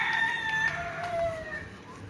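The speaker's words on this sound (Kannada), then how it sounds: "ನೋಡಿ ಕೋಳಿ ಕೂಗ್ತಾ ಇದೆ ಇಲ್ಲಿ." A rooster crows outdoors near a temple in Nusa Penida, Bali, one drawn-out call sweeping through at moderate distance, followed by fainter clucking against low background ambience.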